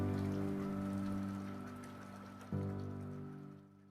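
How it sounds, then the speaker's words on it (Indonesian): Steady rain falls in a continuous wash of droplets, loud and close, mixed with a sustained low tonal hum and no talking. "Proses terjadinya hujan."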